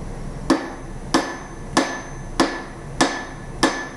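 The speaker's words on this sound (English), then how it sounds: "You're going to hit it with a hammer" Blacksmith's hammer striking a metal coat hook held half on, half off an anvil, six sharp ringing blows at an even, controlled pace, close and loud with no talk.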